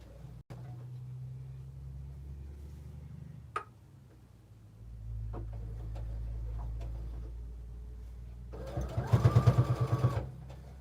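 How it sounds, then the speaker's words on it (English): A sewing machine backstitches a quilted cell phone pouch in one short, rapid, close burst of stitching near the end, after a stretch of quiet handling and light taps. "I'll just backstitch a little where I was to make sure nothing comes undone."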